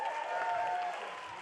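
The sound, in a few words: audience round of applause at roast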